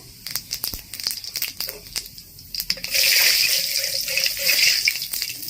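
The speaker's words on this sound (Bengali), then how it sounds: "তেল গরম হয়েছে, এবার আমি জিরে ফোড়নটা দিয়ে দিলাম।" Cumin seeds drop into hot oil for a fish curry with potato and cauliflower, first with scattered sharp crackles, then breaking into a loud, steady sizzle partway through, close and without talk.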